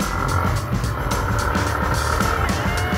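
A Yamaha Sniper 150 motorcycle engine runs with a faulty cam chain tensioner, giving a continuous close, loud idle with a rapid rhythmic sharp ticking chatter layered over the engine drone.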